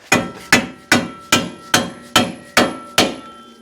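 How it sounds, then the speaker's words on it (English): Eight evenly spaced dead blow hammer blows knock a metal winch bumper bracket onto a first-generation Toyota Tacoma, each a sharp thud with a short ringing tail, steady rhythm, close by. "dead blow hammer"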